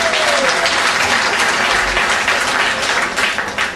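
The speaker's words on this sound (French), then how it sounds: "Encore une fois, on applaudit bien fort." Audience clapping at a French municipal election list presentation, a steady hearty round of applause that holds strong before fading slightly at the end.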